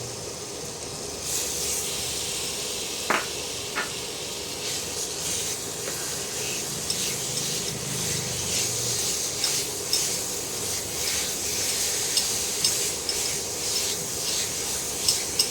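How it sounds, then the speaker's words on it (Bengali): Date paste fries in ghee with a soft, steady hiss and a rubbing, scraping sound of stirring, plus a few light taps of a utensil against the pan, close and without speech. "এবার এটাকে ঘিয়ের সঙ্গে ভেজে নেব"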